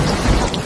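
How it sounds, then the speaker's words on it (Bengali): A sudden thunderstorm in a jungle: a short burst of rumbling thunder over dense, heavy rain, loud and steady throughout with no voices. "বজ্রপাত, ঝড় আর প্রবল বৃষ্টি শুরু হলো।"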